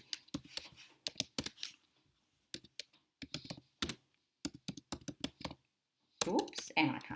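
Fingers tap out irregular bursts of clicking keystrokes on a computer keyboard while typing into an online chat box, close and crisp with short pauses between runs, and a voice speaks near the end.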